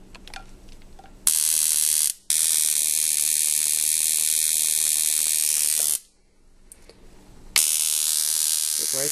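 A homemade stun gun sparking: a harsh electric buzzing crackle sounds in three long bursts separated by short silences, loud and close.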